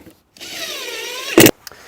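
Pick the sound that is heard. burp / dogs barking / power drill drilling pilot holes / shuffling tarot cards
power drill drilling pilot holes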